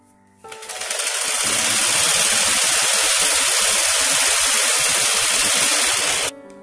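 Sewing machine running steadily while stitching the upper part of a chudidar, a loud continuous whirring hum that starts abruptly, holds for about six seconds, then cuts off.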